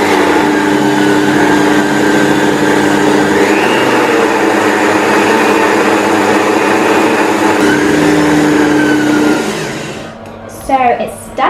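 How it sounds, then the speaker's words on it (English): A blender whirs loudly and steadily for several seconds, grinding oats into flour, its pitch shifting briefly as the contents break down, then cuts off, followed by brief voices. "So now we just need to blend this up."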